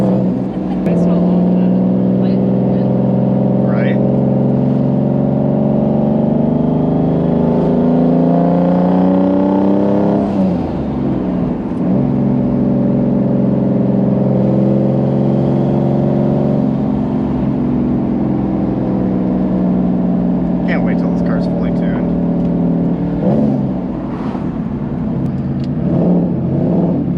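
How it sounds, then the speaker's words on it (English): A Subaru WRX STI engine drones loudly from inside the car, and the pitch rises with acceleration, drops at a gear change, then climbs again. Faint higher turbo whistles and flutters sit over the engine, with no talking. "You like those noises? The turbo noises? The twirly noises."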